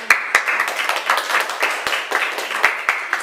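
Audience clapping and applause at an Indonesian talk show, a close, steady patter of many hands with a few sharper individual claps standing out.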